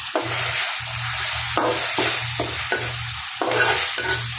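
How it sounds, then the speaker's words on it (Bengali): Aire fish frying in a pan with salt, turmeric and mixed spices, a close, loud sizzle broken up by repeated stirring scrapes in a quick, uneven rhythm, with no talking. "আর মাছ রান্না করবো"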